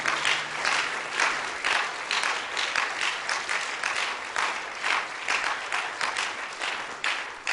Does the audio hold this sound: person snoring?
no